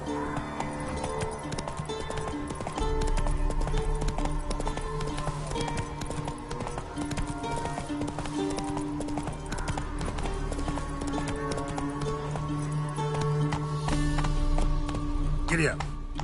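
Horse hooves clip-clopping at a steady run in The Witcher, a continuous rhythmic beat under game music and a rider's spoken commands.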